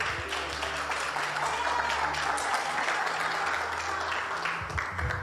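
A church congregation applauds in a sustained, dense wash of clapping that fills the space, with low organ or keyboard tones droning steadily underneath.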